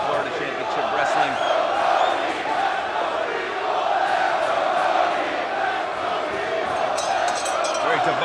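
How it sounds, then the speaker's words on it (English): A divided wrestling crowd at ROH Supercard of Honor, during Jay Lethal vs Cody, chants and cheers in a loud, continuous roar while commentators talk over it. "Very divided crowd."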